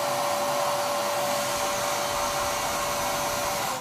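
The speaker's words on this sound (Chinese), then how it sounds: "先将引气管插在吸尘器的排气口上，证明喷管吹气时可以灵活转动。" A vacuum cleaner's exhaust air blows hard through a three-nozzle spinner, a loud steady whooshing roar with a thin constant whine, running unbroken before cutting off abruptly at the end.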